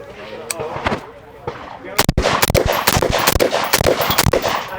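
Rapid rifle shots from a rifle fitted with a GBRS Group Hydra V2 optic mount, loud and sharp, a few spaced shots followed by a dense string of quick reports with echo, and talk faintly mixed in.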